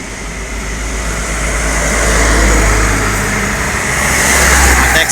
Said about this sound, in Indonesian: ini ada bus lagi ya masuk